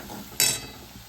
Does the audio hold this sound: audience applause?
no